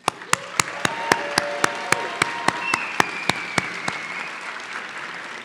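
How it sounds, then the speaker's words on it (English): Sharp, evenly spaced single claps ring out one after another in a room during a student celebration ceremony, loud and distinct like a rhythmic clap, with a faint murmuring crowd and tones underneath. "Can we first get a loud round of applause for our students in the crowd"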